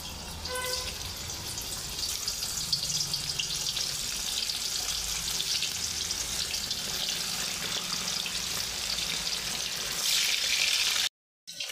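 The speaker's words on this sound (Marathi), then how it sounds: "पहिल्यांदा हे पनीर मी तेलामध्ये फ्राय करून घेणार आहे।" Cubes of paneer frying in hot oil, giving a steady, close crackling sizzle throughout that cuts off abruptly at the end.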